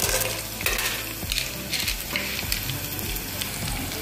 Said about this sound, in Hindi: इन सभी को हमें बस कुछ ही देर सॉटे कर लेना है